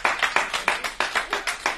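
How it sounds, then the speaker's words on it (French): Congregation clapping in rhythm at a church service, a brisk, evenly spaced series of sharp claps close by, about a dozen beats without talk. "Non, applaudissez."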